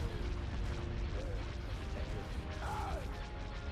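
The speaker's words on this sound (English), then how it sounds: "Opening fire on the torpedo launchers." Starship weapons fire in an Empire at War space battle mod, a dense barrage of booming impacts and crashes with laser-like sweeping tones, continuous and loud throughout.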